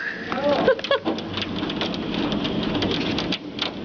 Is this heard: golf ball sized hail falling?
yes